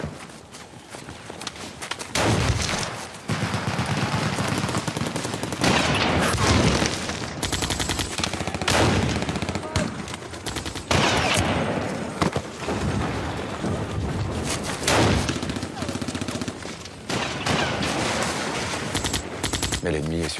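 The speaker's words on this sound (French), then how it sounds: "Les mitraillettes crachent." Machine guns firing in a French Resistance firefight, with grenades exploding among enemy ranks: dense, loud bursts of rapid gunfire come in repeated waves, with brief gaps, and sharp blasts mixed into the din.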